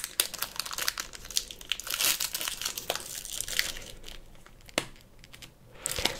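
Pokémon booster pack wrappers being torn open and crinkled up close, with dense crackling plastic crunches and sharper rips scattered through, no talking.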